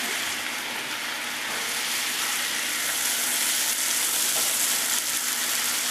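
Asparagus sizzling in a hot skillet, a steady, bright crackling hiss that holds evenly throughout with no break.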